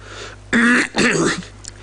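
A man clears his throat in a couple of loud, theatrical 'ahem' bursts, close up, as though about to make an announcement, with quiet room tone before and after.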